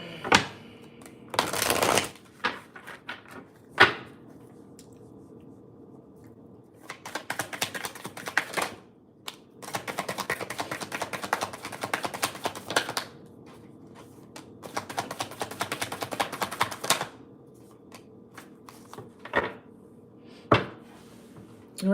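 A deck of tarot cards being shuffled in several bursts of crisp riffling and clattering, separated by short pauses, close and fairly loud with no talking.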